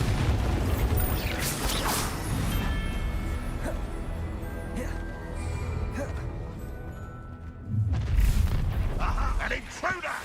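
Bombarda blasting spell explosions in Hogwarts Legacy, booming blasts amid ongoing combat clatter and magical effects, with a heavier burst near the end and voices shouting spells over the fight.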